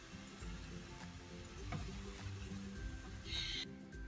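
Flour is stirred into a carrot mixture in a frying pan, giving a soft continuous sizzle with scraping, shuffling stirring strokes, heard close with no voices.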